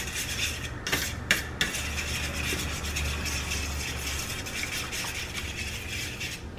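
A utensil briskly stirs and whisks a French toast base of eggs and a little milk in a bowl, steady scraping and clinking with a few sharper taps near the start, no voices.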